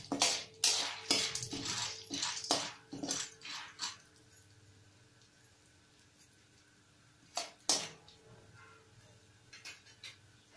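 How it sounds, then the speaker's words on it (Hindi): Popcorn kernels being mixed with turmeric powder and salt in a metal pan give a run of scraping, clinking stirs over the first four seconds, then near quiet, and another brief burst of clatter near the end. "डालेंगे हल्दी पाउडर, डालेंगे नमक और अच्छे से मिक्स कर देंगे"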